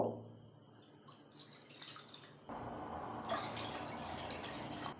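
Two cups of water go into a pot to start sugar syrup for gulab jamun. Quiet drips and trickles give way to a steady, soft pour that fills the pan.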